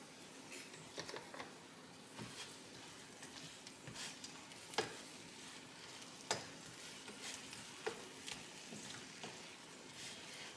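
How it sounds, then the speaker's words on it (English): Meat browns in a pan with a quiet, continuous sizzle, punctuated by occasional faint ticks and small pops, heard alone and fairly soft throughout. "let it brown up just a little bit before we can add the potatoes in"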